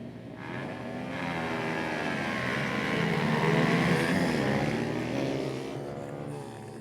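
A Kawasaki racing motorcycle roars past at a track, its engine swelling from a distant drone to a loud, harmonic-rich whine and then fading away.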